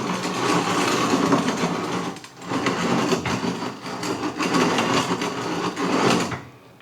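A Wondermill Junior Deluxe Plus hand grain mill is cranked to grind flour, giving a continuous gritty grinding rumble with a steady rotating rhythm, close and fairly loud, easing off briefly midway and stopping at the end.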